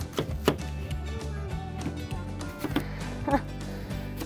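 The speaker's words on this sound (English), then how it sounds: "I'm gonna cut this into slices" A knife slices through a whole apple on a cutting board in a classroom, giving several sharp irregular chops and thuds, fairly close and loud, with faint voices in the background.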